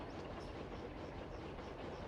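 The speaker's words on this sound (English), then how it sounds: "I don't want to risk derailing the train" A very long train in the Roblox video game rolls along its rails, giving a quiet, continuous rumble with faint rhythmic rail clatter and no voices.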